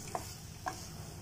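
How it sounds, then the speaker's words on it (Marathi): A spoon stirs tomato masala in a lightly oiled kadhai for a green peas nimona curry, giving two soft, separate scrapes against a quiet, low background. "टमाटर चांगलं शिजेल तोपर्यंत आपण मसाला कढईत हलवत राहायचा आहे."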